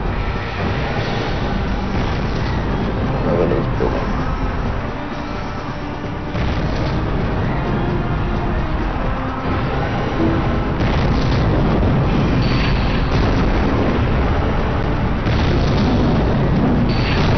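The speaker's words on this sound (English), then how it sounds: "Fire the Harkin laser!" Heavy booming blasts and rumbling explosions from a giant robot's Harkin laser in the video game Robot Alchemic Drive, sustained and loud throughout with dense low-end impacts and no speech.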